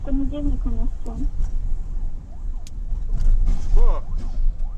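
An ambulance siren wails in rising and falling sweeps amid traffic noise at a crash scene, with people talking over it.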